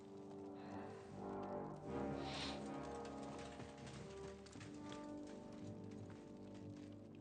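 A horse's hooves clip-clop steadily in the medieval game Kingdom Come Deliverance 2, heard quietly beneath a sustained musical score with droning tones.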